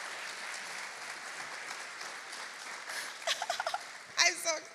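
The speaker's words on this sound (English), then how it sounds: "Let's give them another round of applause" Audience applause runs as a steady wash of clapping at moderate distance, with a few sharper cheers and voices rising near the end.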